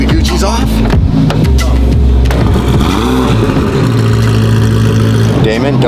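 A Ferrari F40 with a custom titanium exhaust is bump started, and its engine catches and revs loudly and close, rising and falling in pitch, while people talk and shout over it.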